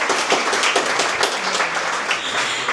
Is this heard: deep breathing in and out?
no